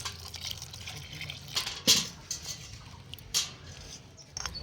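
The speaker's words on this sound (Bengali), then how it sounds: "আলুগুলো সব গ্রেট করে নিয়েছি এবার জল দিয়ে ধুয়ে নেব আলুর কষটা বের করে দেব" Grated potatoes being washed in water, soft sloshing and dripping at close range with a few sharper splashes and clatters standing out against quiet handling.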